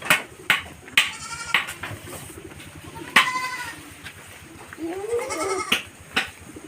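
Several goats bleat in a semi-free-range pen on a Bali goat farm, with repeated loud, quavering calls from nearby animals overlapping at irregular intervals against low rustling background noise.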